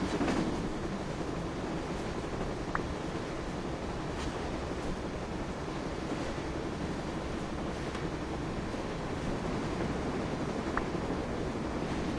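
A speeding train in the video game Secret Files: Tunguska, heard as a steady, dense roar of rolling wheels and rushing wind that carries on without a break, with faint metallic ticks now and then and no speech.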